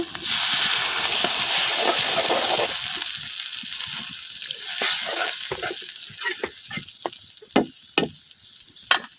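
Water poured into frying onion, ginger and garlic paste in a pan, a loud burst of hissing sizzle that fades over several seconds into scattered spatters and stirring clicks, no talk.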